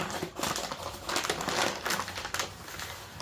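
Packaging being unwrapped from a Wagner Ware 1148 cast iron utility griddle, giving close, busy crinkling and rustling that crackles irregularly throughout.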